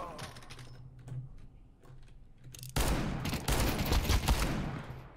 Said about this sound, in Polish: No te strzały!